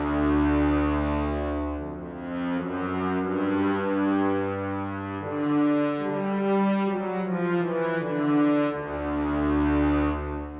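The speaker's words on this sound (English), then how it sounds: "I will play the low brass because I think it sounds brilliant" Low orchestral brass from a HALion virtual instrument swells in rich, sustained chords and moving low lines, deep and full, heard alone without speech.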